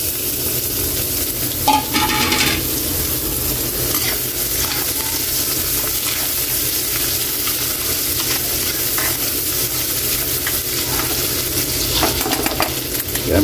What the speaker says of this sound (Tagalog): para ma-fry na natin yung ano natin. Lagyan na natin kaili yung bawang. Lagyan na natin yung sibuyas.